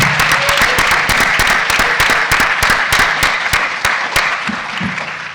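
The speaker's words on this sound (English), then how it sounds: "Round of applause for this man." An audience at a political event applauds a man, producing loud sustained clapping with sharp individual claps standing out, which gradually thins and fades toward the end.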